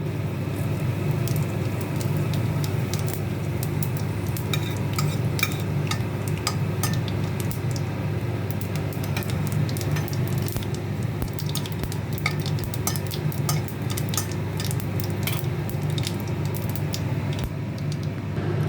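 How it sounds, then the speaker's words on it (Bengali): White cumin and dried chili tempering fry in hot oil in a wok, a steady close sizzle with scattered crackles and pops running continuously, alone. "ফোড়নে আমি দেব সাদা জিরে, শুকনো লঙ্কা।"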